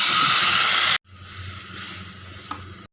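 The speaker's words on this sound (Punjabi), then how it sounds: "ਹੁਣ ਆਪਾਂ ਇੱਧਰ ਤੇਲ ਗਰਮ ਕਰ ਲਿਆ ਹੈ ਤੇ ਇਹਦੇ ਵਿੱਚ ਆਪਾਂ ਇਹ ਸਾਰਾ ਪਾ ਦਿੰਨੇ ਆ ਪੇਸਟ" Spice paste hitting hot oil for shahi paneer, a loud hiss in the first second that breaks off sharply, then a softer continuous sizzle with a small pop near the end, with no voices.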